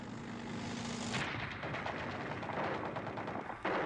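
Machine gun fire: a dense, continuous rattle of rapid shots, loud and sustained throughout, with no voices.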